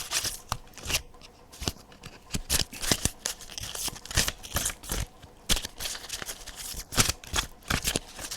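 Playing cards shuffled and drawn for a tarot-style reading, a dense run of crisp riffling slaps and snaps at close range, continuous for several seconds with no voice.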